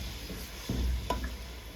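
A spoon stirs and fries masala gravy for egg kofta curry, with a little water just added, giving a brief scrape and soft sizzle close by, quiet and over in under two seconds.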